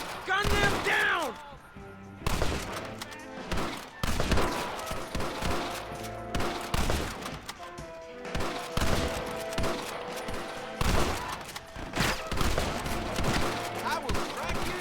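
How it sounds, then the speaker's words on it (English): Rapid bursts of gunfire ring out in a Red Dead Redemption shootout, loud overlapping shots and volleys repeating across the whole stretch, with shouted voices mixed in early on. "They're coming out! Gun them down!"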